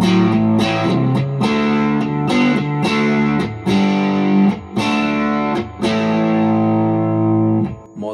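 Electric guitar through a Pedalcluster Jaminabox pedal on its maximum distortion mode, loud thick chords and riffs ringing continuously with brief pauses, close and dense.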